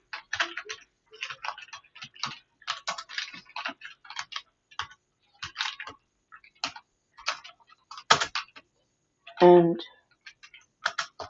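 Typing on a computer keyboard comes in clustered bursts of crisp clicks with short pauses, close and clear, and one brief spoken word is heard partway through.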